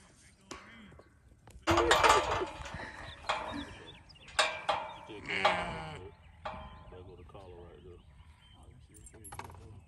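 Several sheep bleat close by in short, wavering calls, some overlapping, with a person's voice briefly mixed in.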